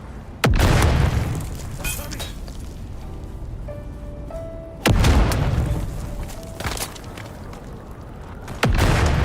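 Three loud, sharp booms of grenade explosions in the video game Dune Awakening, each one followed by a rumbling decay, with quieter game sounds playing in between.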